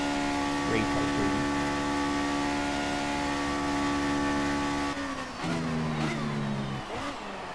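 A 1978 Lotus 79B Formula 1 car in the racing game F1 2018 holds a steady, high, buzzing engine note, then shifts and revs up and down in the last seconds, with someone talking quietly underneath.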